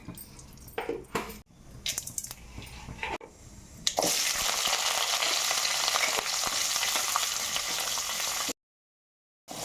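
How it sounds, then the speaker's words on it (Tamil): Mustard seeds dropped into hot oil for sambar: a few clinks and scrapes, then a sudden loud, dense hiss of frying that holds steady, close up, before cutting off abruptly. "இப்போ நம்ம சாம்பார் வச்சுக்கலாம் கொஞ்சமாக கடுகு சேர்த்துக்கலாம்"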